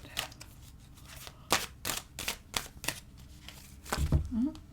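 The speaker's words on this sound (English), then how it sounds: "let's pull some Archangel cards" Archangel oracle cards are shuffled by hand in a quiet room: a run of crisp, riffling bursts with short gaps, then a few softer card slides, with no talking.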